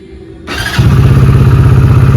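A new motorcycle is switched on and its engine cranks briefly, catches, and then settles into a loud, steady, close-up idle.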